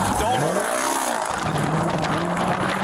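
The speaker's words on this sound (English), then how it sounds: "Vehicle took off." A four-cylinder car speeds off with a rising engine note and a brief tire squeal, loud and close under continuous road noise.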